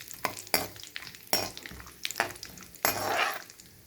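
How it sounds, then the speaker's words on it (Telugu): Cashews and almonds fry in ghee in a pan for carrot halwa, with bursts of sizzling and stirring scrapes coming in uneven waves, close and moderately loud, with no talking. "ఇప్పుడు ఈ కాజును జీడిపప్పును రెండింటిని నెయ్యిలో వేయించుకోవాలండి."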